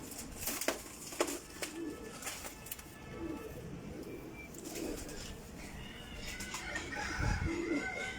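Teddy pigeons, a flock of about ten males, coo and call in their loft, with scattered wing flutters and short bursts of bird noise over steady background hiss.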